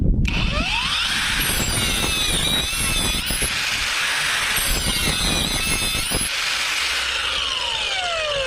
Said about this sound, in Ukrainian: Запускаємо. Ріже як масло.